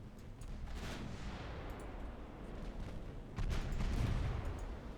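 Warship guns firing in the naval video game Ultimate Admiral Dreadnoughts, rumbling volleys of distant booms blending into a continuous low roar, with a heavier salvo near the end.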